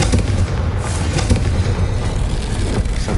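Confringo fire spell explosions in Hogwarts Legacy, a loud cluster of booming, crackling blasts repeating across the short stretch with no talking.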